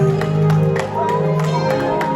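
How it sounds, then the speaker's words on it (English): Audience applause for contestant number 3 at a Samoan Tausala and Manaia pageant night: a steady, dense wash of clapping and crowd noise with a sustained low musical hum and occasional voices underneath. "A round of applause, ladies and gentlemen,"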